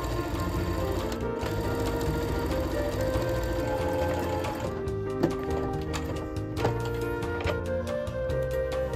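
A sewing machine runs steadily, stitching the seams of a summer top, its close rapid mechanical whir and needle tapping continuous with a few small clicks and knocks.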